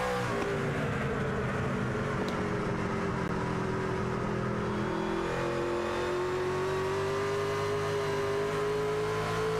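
A race truck engine in a Truck Series sim race at Richmond, revving up as the throttle opens, its whining pitch climbing steadily then leveling off, loud and close for nearly ten seconds.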